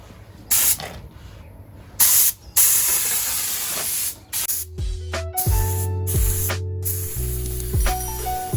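A paint spray gun laying a light base coat gives bursts of loud, airy hissing that stop and start, and later becomes a steadier spray over a low hum from the compressor.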